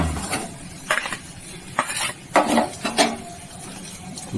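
Food fries in oil in a pan for a spinach and prawn curry, with a soft sizzle under a series of loud clinks and scrapes as a spatula turns and lifts pieces.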